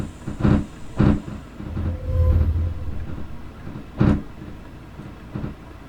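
A British Rail passenger train arriving at Victoria Harbour terminus, with heavy rhythmic thumps of wheels over rail joints, a low rumble and a brief tonal squeal in between, close and fairly loud.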